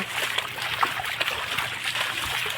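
Floodwater runs across a road after heavy rain, making a close, steady trickling and splashing flow with small irregular sploshes. No one speaks over it.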